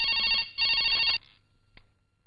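Telephone bell ringing in two loud, rapid trilling bursts, then stopping, followed by a brief faint click and near silence.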